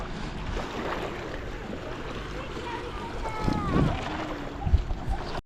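Kayak out on a reservoir near a beach, with paddle splashes and soft water lapping under steady wind noise, and people talking nearby throughout.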